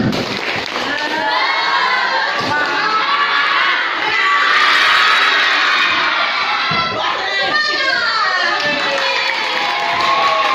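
A class of junior high school children shouting and chanting together loudly and continuously, with rhythmic claps, close and lively.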